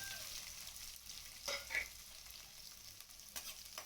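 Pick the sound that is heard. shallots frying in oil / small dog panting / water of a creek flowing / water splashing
shallots frying in oil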